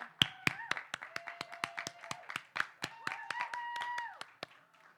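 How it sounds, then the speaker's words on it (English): A small audience at a Self Love Day community gathering claps in scattered, uneven bursts, with sharp individual hand claps standing out over a sustained tonal background and little voice, fairly close. "I want you all to give yourselves a round of applause"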